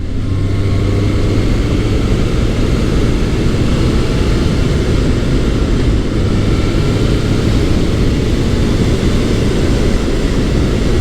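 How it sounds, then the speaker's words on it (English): A Honda CB1100 or Kawasaki ZRX1100 big four-cylinder motorcycle engine runs with a smooth, loud, steady drone while riding, with no talk. "The big 4-cylinder is very smooth."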